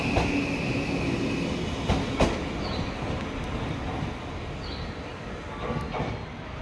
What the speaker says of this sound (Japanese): 回送電車が発車します。